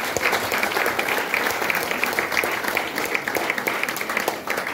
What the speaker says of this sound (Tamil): ஒரு கைத்தட்டல் கொடுக்காமா சார்?